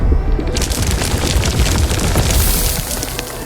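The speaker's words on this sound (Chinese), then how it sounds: "矿机挖矿的声音。" Mining machine digging ore in the video game Arknights: Endfield, a loud, dense rumbling grind with booming low churn that runs steadily throughout.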